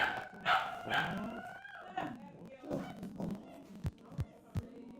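A dog barks and whines in a few drawn-out, wavering yelps, followed by several short, low thumps, all fairly faint and indoors, with a brief trace of voice in the background.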